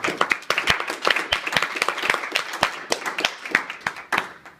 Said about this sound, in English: So a round of applause for the meeting.